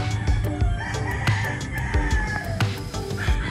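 A rooster crows repeatedly on a farm, loud and close, with other fowl clucking and calling around it and no talk.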